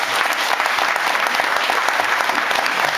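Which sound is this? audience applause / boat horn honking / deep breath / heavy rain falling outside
audience applause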